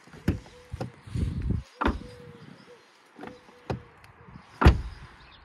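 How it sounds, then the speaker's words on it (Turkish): A car door, its lock mechanism treated with liquid grease and silicone spray, swings shut several times with short, solid thuds spaced through the moment, fairly close with quiet pauses between. "Bakın şimdi kapının kapanma sesine bakın arkadaşlar"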